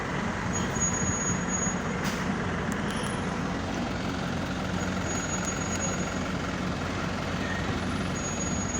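Trucks and heavy vehicles work at an airport construction site with tower cranes and rollers, producing a steady, loud rumbling engine drone with a brief hiss like an air brake near the two-second mark.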